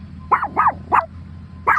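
A dog barks four times in a quick, uneven series, three close together and one after a short pause, loud and close against a low steady hum.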